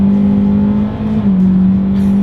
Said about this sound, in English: let's see how quickly we can get our new 2023 Elantra here up to speed